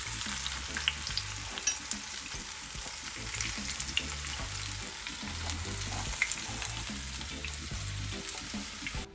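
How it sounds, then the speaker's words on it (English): Saltfish and banana fritters frying in hot oil in a pan, a steady close sizzle and crackle throughout, with a low rhythmic hum underneath. "Now I'm turning my fritters golden brown, and I want them golden brown on the other side as well"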